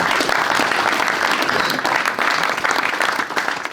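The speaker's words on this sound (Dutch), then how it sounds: "Dan wil ik graag een groot applaus voor de vrijwilligers en het bestuur van Beelse Eigenaar bij deze." A crowd claps steadily and loudly for the volunteers and board of a local history, language and culture association at a Bildts culture prize event, with dense, continuous applause throughout.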